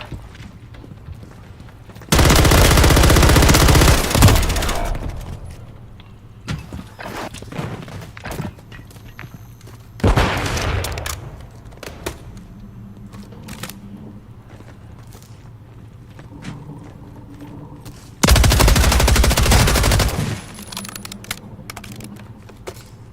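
Gunfire in a Call of Duty: Modern Warfare 3 gunfight, three loud sustained bursts of automatic fire separated by quieter stretches of footsteps, clicks and distant shots.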